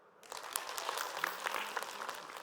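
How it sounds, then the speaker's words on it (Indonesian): A studio audience at an Islamic religious television program breaks into applause, which swells quickly from quiet into a dense, crisp clapping that holds steady to the end. "Mana tepuk tangannya?"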